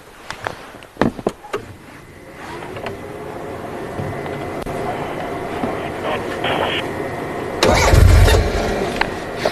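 A car engine on safari turns over with a few sharp cranking bursts, then settles into a steady idle that builds louder near the end, heard close by in open bush.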